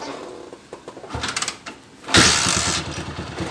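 A motorcycle engine is cranked by its starter, ticking and whirring, then catches and fires into a loud, rapid idle after a tune-up; no voices heard.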